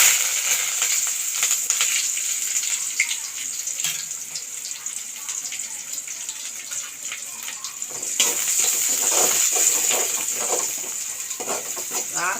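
Chopped onions with fennel seeds, cinnamon and cloves sizzle in hot oil in a pan, a steady hissing fry that grows slightly louder toward the end.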